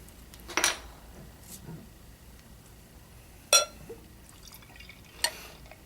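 Victory Storm King stout poured from a bottle into a glass, heard as a few brief splashing, clinking bursts spaced apart with quiet between them, close by and fairly faint.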